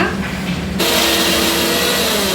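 A kitchen mixer grinds about 200 grams of ginger and garlic into a fine paste; its loud, steady whirring roar starts abruptly and then runs continuously at full strength.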